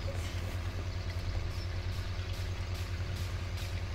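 In Farming Simulator, a tractor engine idles with a steady low, pulsing throb and light mechanical clatter, continuous and close, with no voices.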